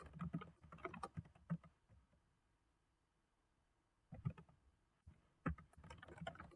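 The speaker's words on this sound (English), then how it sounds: "I'm going to type this here." Typing on a computer keyboard in quick bursts of clicking keystrokes, close and fairly faint, broken by a pause of a couple of seconds before the typing resumes.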